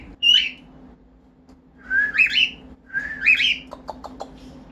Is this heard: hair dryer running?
no